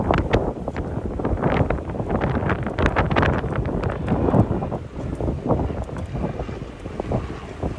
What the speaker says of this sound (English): Yeah, this wind is not fucking fun.